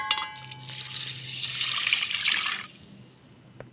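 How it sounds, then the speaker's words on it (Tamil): Water pours steadily over rice and lentils in a pot, a close, bright splashing stream lasting about two seconds before it stops and leaves a faint trickle. "இந்த அரிசி பருப்புக்கு 6 கிளாஸ் தண்ணி ஊற்றிக்கலாம்."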